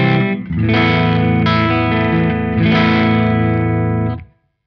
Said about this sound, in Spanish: la saturación que estás escuchando es de las válvulas del equipo